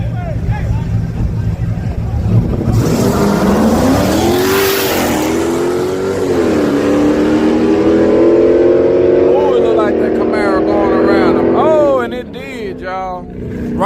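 A Camaro drag racing past a Scat car, loud roaring engines with rising revs and gear-change dips as the cars pass close by, with people talking and shouting over the noise.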